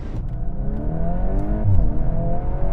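Sports cars — Honda Civic Type R, VW Golf R, Mercedes-AMG A35, Audi S3 and BMW M135i — launching in a quarter-mile drag race, engines revving hard and climbing through gears, loud and close.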